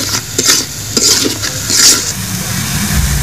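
Chicken biryani masala being stir-fried with sour yogurt, steady close sizzling with a few scraping spoon strokes and light pan clatter, no speech.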